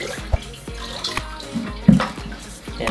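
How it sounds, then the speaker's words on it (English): Water is siphoned out of a saltwater aquarium, making close gurgling, splashing and trickling with occasional drips and small bubbling bursts. It is irregular and moderately loud, with no talk. "To balance out the extra water volume, I gotta suck some of this water out."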